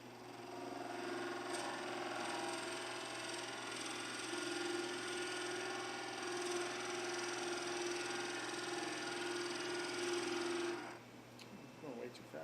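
A steady mechanical whir of a lathe running, a 3/4 inch drill bit boring slowly, with a sustained tone, stopping near the end; no voices.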